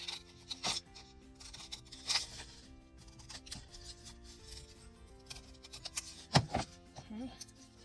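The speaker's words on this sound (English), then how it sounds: "cut this little calendar out" Scissors cutting a small paper calendar out for a file folder embellishment, producing soft, close rustling snips and paper rubs with a few sharper cuts, fairly quiet throughout.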